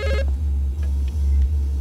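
A telephone rings loudly inside the video game Transference, a steady electronic ring repeating in short bursts with a brief higher tone at the start, close and alone without speech.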